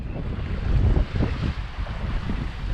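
Sea swell of about two to three metres and wind around a single-handed sailing boat off Land's End, with steady rushing wind noise and low surging water throughout.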